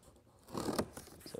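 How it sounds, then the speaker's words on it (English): A knife or scissors slices open a cardboard box taped shut with blue tape, making a soft, brief scraping and tearing rasp that swells and fades, quiet and close. "Inside here, you'll need some scissors or a knife to open up the"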